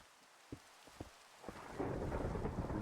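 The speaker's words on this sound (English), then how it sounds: "Oh, it's a thunderstorm now." Thunder rumbling through a Minecraft video game thunderstorm, a few soft cracks early on, then a heavy rolling rumble with rain building to a steady loud wash.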